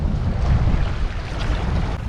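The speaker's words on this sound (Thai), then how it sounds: "ฝั่งนี้ลมแรงมากเลยครับ" Strong, gusty sea wind buffets the microphone at a coastal fishing spot on a headland, a steady low roar with surging gusts throughout and no talk.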